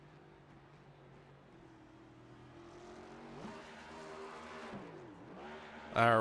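Race car from a racing game doing celebratory burnouts at Talladega after a photo-finish win, engine droning and revving steadily, rising toward the end with a sharp loud burst, faint voice underneath.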